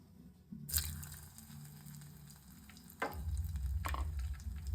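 Broccoli pieces dipped in pakora batter poured into hot oil, a soft sizzle that swells into a fuller, steadier frying hiss after a few seconds, with a couple of clacks from handling, fairly quiet and without talk.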